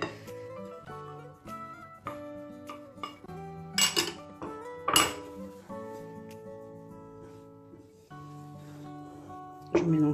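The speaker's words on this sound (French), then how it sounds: "Je mélange tout ça" Utensil mixing flour into chocolate mousse batter for a bûche: soft scraping with intermittent clinks of metal against a bowl, a few louder knocks, under steady music and occasional talk.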